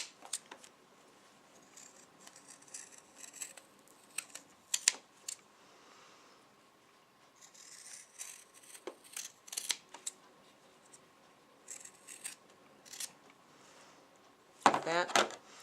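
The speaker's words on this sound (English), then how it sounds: "If you want to use a good pair of scissors, that works good too." Scissors cutting fabric for a quilt binding: quiet, scattered snips and small handling clicks, with a louder cluster of cuts near the end, over faint room noise.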